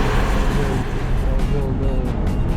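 Proton X50 1.5 TGDi crossover accelerating hard from rest at Sepang circuit, a loud engine note rising steadily and heard close from inside the cabin.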